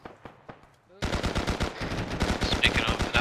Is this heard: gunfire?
yes